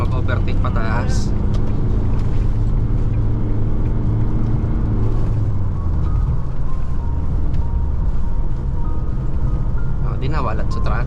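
A car climbs uphill and overtakes a truck on a rainy road trip to Nabua. A steady, loud engine rumble and road drone continue throughout, with people talking inside the car.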